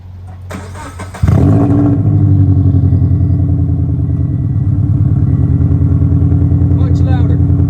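An engine with its AWE touring exhaust removed and running straight-piped cranks briefly, then fires into a loud, raw, steady idle close by, with faint talk in the background.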